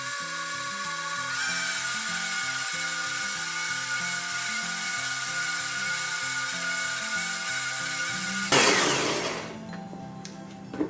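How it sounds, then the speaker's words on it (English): A blender whirs steadily at high speed, mixing a chickpea flour and coconut milk batter until smooth, with a pulsing motor drone close up, then cuts off and winds down near the end. "we're just gonna blend this up real quick until smooth"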